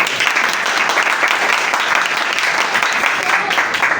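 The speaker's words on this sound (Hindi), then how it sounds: "तालियां होनी चाहिए आईबेक्स" An audience applauds at a mental health session held at ibex in Islamabad, a continuous loud wash of clapping with no break.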